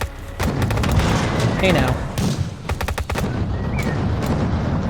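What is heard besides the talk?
tank firing at a wall in video game Total Tank Simulator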